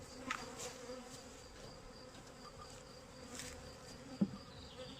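Honeybees droning around a queen bee's hive, a faint continuous buzz with a few louder passes close by and a brief knock near the end.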